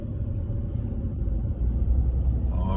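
Water provider truck driving past on a snowy road near a Hilton Head Island resort, a steady low rumble of the engine at moderate distance with no talking.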